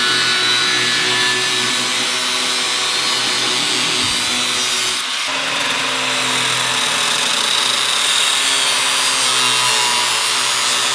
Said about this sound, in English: you just take your good old cutoff wheel. You just trace your lines.